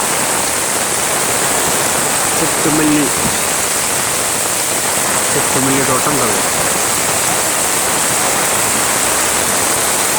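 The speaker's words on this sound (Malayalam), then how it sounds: "അപ്പം നല്ല മഴയാണ്" Steady, heavy rain roars with a dense, even hiss throughout, while someone speaks briefly underneath it.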